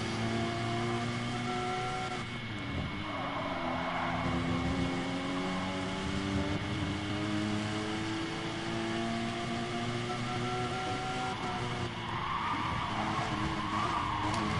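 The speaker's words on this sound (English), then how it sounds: "Yeah, the Porsche just got sideways." A Porsche Gr.4 race car in GT Sport at Catalunya slides sideways, tires squealing in long rising and falling streaks over a steady engine drone, repeated bursts across the stretch, no talk.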